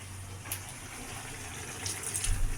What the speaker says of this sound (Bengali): আমি কিন্তু একটু জল দিয়ে দিলাম যাতে করে এগুলো আলু, ডাঁটা, লাউ শাক এগুলো একটু সেদ্ধ হয়ে যায়